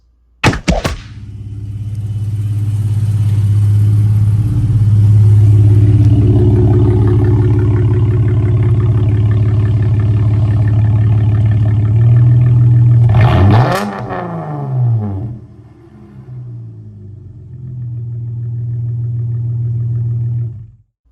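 A 2016 Chrysler 300S with a V6 and a big aftermarket exhaust revving, a loud, close, deep drone held for long stretches, dropping and rising again, with a sharp mechanical whoosh partway through.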